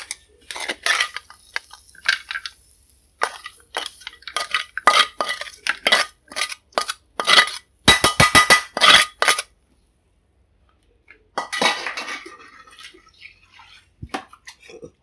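Stir-fried tofu with pickled radish being dished onto a plate, a run of close, sharp clinks and scrapes of utensil against pan and plate, a pause, then a few more clattering scrapes.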